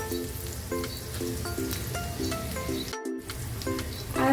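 Onions frying in a pan give off a steady, close sizzle that runs throughout, with soft background music playing over it and no one talking.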